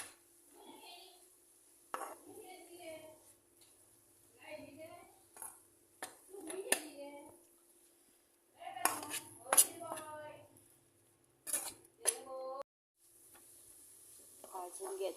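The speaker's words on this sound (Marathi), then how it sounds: "करीपत्ता आनी मिरसांग घालून मातशें भाजून घेता." Curry leaves and chillies roasting in a pan for a Goan pork chilli fry: intermittent metal clinks and scrapes of a utensil against the pan over a faint sizzle, with a person talking throughout.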